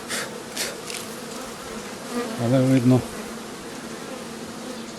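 Bees buzzing steadily around close by during end-of-season hive work, with a louder, nearer drone swelling for a moment midway; a brief spoken remark is heard.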